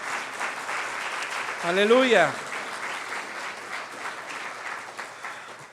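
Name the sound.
audience applause in church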